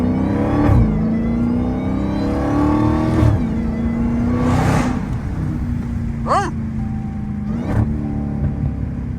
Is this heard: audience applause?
no